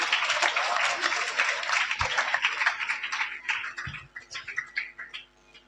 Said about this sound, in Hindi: जोरदार ताली बजा दो भाई मेरे लिए।